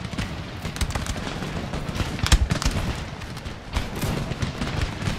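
Dense, continuous musket gunfire from camel gunners in Empire Total War, a crackling battlefield of overlapping shots with scattered sharper reports and a spike near the middle, steady and loud throughout without speech.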